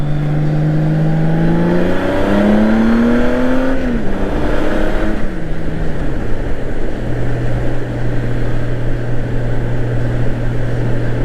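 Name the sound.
vehicle tires spinning and engine revving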